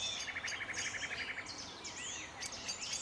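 Several birds sing and chirp in a large garden in Brittany beside a house with a tree that draws many species: a fast trilling series, then varied whistled phrases over a steady background hiss.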